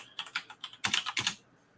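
Typing on a computer keyboard: a quick run of light key clicks, then a few louder, harder strikes, close up and with no talk over it.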